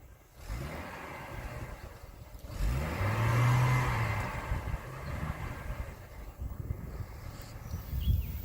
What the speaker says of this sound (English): Stock exhaust at 10 feet, idle.